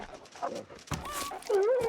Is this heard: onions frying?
no